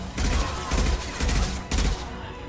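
Gunfire in the video game Mass Effect 2, four dense bursts of rapid automatic shots in quick succession, loud and close.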